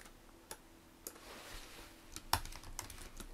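Quick, light keystrokes on a computer keyboard as a project folder name is entered, a few isolated taps followed by a faster burst of typing, close and quiet.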